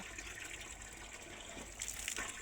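Tap water gushes fast into a container, filling it quickly; a steady broadband rush runs throughout, swelling louder near the end with splashy bursts, with no talk.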